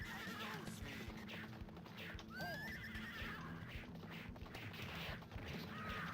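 Horses neigh and whinny in the arcade beat 'em up Warrior Blade, shrill whinnies rising over busy game sounds with hoof clops, thuds and crashes, quiet overall.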